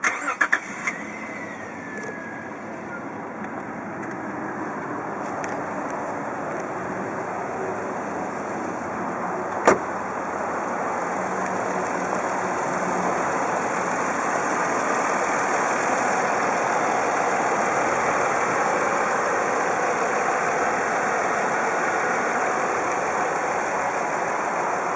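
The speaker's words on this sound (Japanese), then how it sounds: "エンジンをかけてみます。" A Nissan FHY33 Cima, late model, starts up at a car shop and settles into a steady idle, its engine hum continuous and moderately loud for the rest of the stretch.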